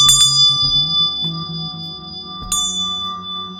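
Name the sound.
bell ding for sound clearing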